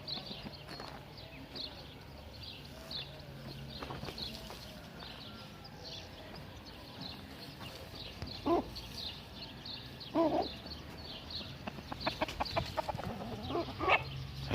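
Chickens and an Indian rooster clucking in a farmyard, scattered short clucks and calls that grow busier and louder toward the end, with faint voices now and then in the background.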